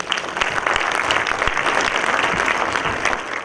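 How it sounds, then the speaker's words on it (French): Steady applause from an assembled audience welcoming a speaker to the stage at a documentary event, dense and continuous throughout with no talk over it. "je vous demande d'applaudir Blaise Benjiwa"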